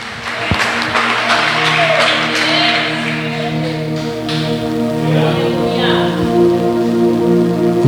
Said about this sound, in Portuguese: E as palmas exaltam o nome do Senhor.